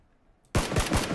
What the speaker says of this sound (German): Du siehst doch die Schüsse, Janik.